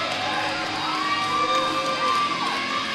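A wrestling event crowd cheers and shouts in a steady, loud roar, with a whistle-like tone rising and holding over the noise.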